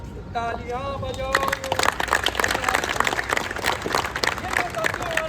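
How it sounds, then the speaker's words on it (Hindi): Spectators clap after an outdoor street play on cleanliness and energy conservation, sharp irregular clapping from a nearby crowd, with a voice and tonal sounds heard at the start. "अच्छा लगा हो तालियां बजाओ"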